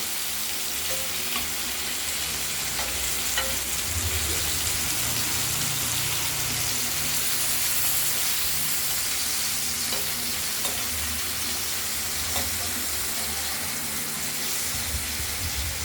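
Slices of pointed gourd (potol) fry slowly in oil in a pan, giving a steady close sizzle with faint crackles and occasional stirring, continuous throughout with no talking.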